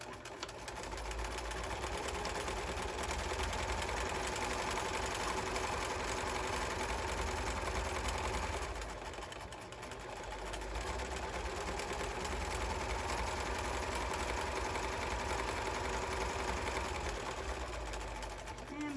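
A sewing machine runs steadily, back stitching along the edge of a fabric garden pouf, with a continuous close whirring that eases briefly midway before resuming.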